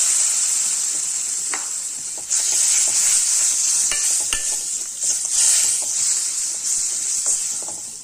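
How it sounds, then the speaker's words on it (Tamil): Tamarind water hits a hot pan of peanut curry and the loud sizzling hiss swells, continuing with occasional clinks of stirring. "புளி தண்ணி வந்து இதில் சேர்த்துடலாம்."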